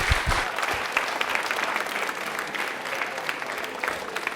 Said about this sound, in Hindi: तालियां बजा दीजिए एक बार जोरदार वाली।